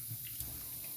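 Water from an indoor shower runs steadily in a short stretch, a soft continuous splash and hiss with no voices.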